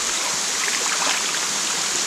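Water trickles down through rocks into a river in summertime Kentucky, a steady, close, broadband hiss and babble with no pauses and no voices.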